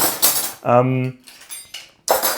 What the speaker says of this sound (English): just with the noises of cutlery on the side.